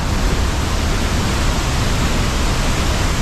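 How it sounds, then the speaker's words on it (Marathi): Dense, steady roar of the Thoseghar waterfall in India, loud and close, pouring continuously with no break or voices. "याला बोलतात धबधबा"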